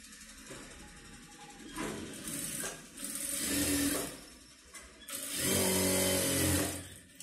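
A sewing machine runs a double line of stitching along a fold on a katori blouse, in bursts of steady mechanical whirring with short pauses between runs, close and fairly loud.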